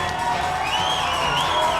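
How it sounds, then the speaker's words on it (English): Crowd at an XFC 53 MMA event cheering during the Caleb Miller vs Cody Cole bout, a loud sustained roar with rising shouts and whistles, over a commentator's voice. "And the crowd's getting back into it."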